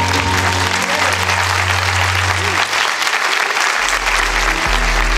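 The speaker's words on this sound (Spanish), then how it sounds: "Fuertes aplausos para Jesús" Applause for Jesus at a live Christian concert session, a steady dense wash of clapping filling the room throughout.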